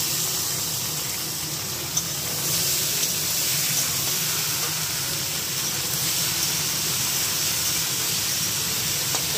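Taro sizzles in hot oil with garlic and onion, a steady, close frying hiss with faint crackles that holds evenly throughout without talk.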